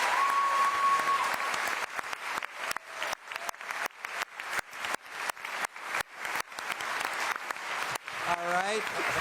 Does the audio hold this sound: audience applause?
yes